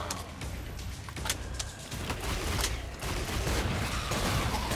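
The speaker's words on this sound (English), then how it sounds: "This is a shotgun." Shotgun fire in the zombie shooter game Killing Floor 2: repeated sharp blasts spaced a second or so apart amid dense battle noise and chaotic game sound, fairly loud throughout.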